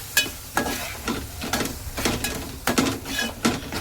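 A chutney filling for modak is stirred in a pan, with a steady rhythm of spoon scrapes and taps, roughly two per second, over a soft sizzle close up and without voices.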